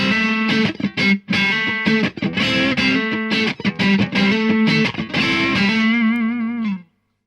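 Electric guitar played through a Carl Martin Plexitone overdrive on its crunch channel: a continuous run of strummed and picked chords with a gritty, saturated tone, loud and close, ending on a sustained ringing chord that fades into silence.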